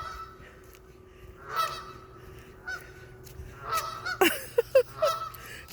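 A goose honks repeatedly in a U-shaped courtyard, the calls echoing off surrounding buildings; sparse honks at first build into a cluster of loud, sharp honks near the end over a quiet background hum.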